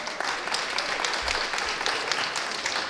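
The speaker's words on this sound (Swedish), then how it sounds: "men en liten applåd kan hon få" Brief, fairly quiet clapping from a small gathering at the opening of an art salon, a light patter of hands lasting a few seconds.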